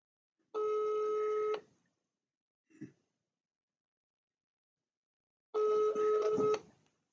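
A phone ringback tone sounds twice with a long silent gap between, plus a faint brief noise in the middle; close and clear.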